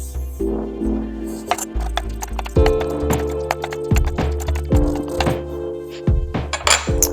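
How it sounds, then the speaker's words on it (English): A knife chops tomatoes and onion on a cutting board in a run of sharp, irregular knocks, heard over steady background music. "I'm just going to chop the end of this and then quarter it up"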